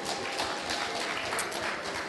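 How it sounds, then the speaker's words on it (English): Audience applause at a Nigerian youth presidential debate, a steady dense wash of clapping held at an even level for the whole stretch with no voices over it. "May we give them a round of applause, please?"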